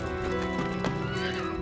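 A horse whinnies loudly and close, a long harmonic neigh with a sharp peak midway, while hooves clip-clop beneath it throughout.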